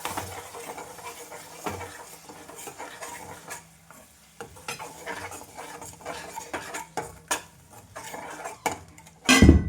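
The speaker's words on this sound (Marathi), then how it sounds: "1 वाटी दही घ्यायचं, ते पण टाकायचं, त्याला छान मिक्स करून घ्यायचं" A spoon stirs curd into a bowl for a besan recipe, scraping and clinking against the sides in steady repeated strokes, close and fairly loud, with a sharper knock near the end.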